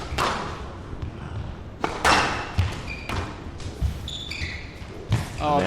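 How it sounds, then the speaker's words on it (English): Squash ball struck repeatedly in a professional rally at the 2003 Super Series finals, sharp thuds and taps echoing around the court at an uneven pace, with a commentator talking over the play. "Oh, beautiful shot by that Nicol."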